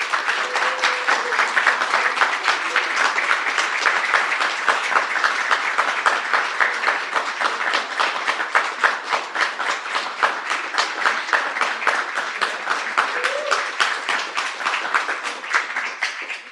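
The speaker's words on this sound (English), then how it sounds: "give Izabel a big, big, big hand of applause" A conference audience gives long, sustained applause at the close of a reflections and open-discussion session, dense and steady for the whole stretch, with no voices over it.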